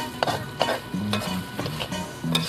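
Crocodile meat is stir-fried in a pan at a restaurant, with a sizzle under repeated scraping and clanking strokes of a utensil against the pan, close and moderately quiet.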